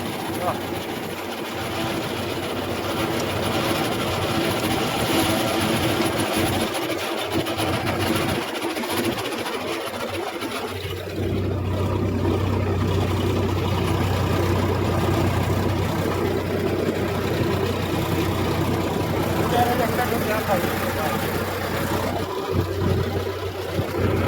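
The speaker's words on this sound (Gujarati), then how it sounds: "જો આપણું બીજું ટ્રેક્ટર આવ્યો છે" A farm tractor engine runs in a field with a steady, loud low drone throughout, while people talk over it.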